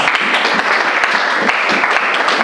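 A church congregation breaks into a dense, steady round of applause, many hands clapping close and loud throughout.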